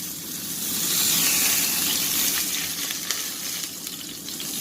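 A burger patty sizzles loudly in a hot pan as it is flipped, a dense, crackling hiss swelling up and staying steady, close by with no talking.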